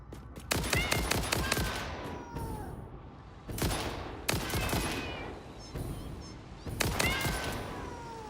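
Gunshots in the Satisfactory video game, several rapid bursts of sharp shots separated by short pauses, each followed by a ringing, whining tail.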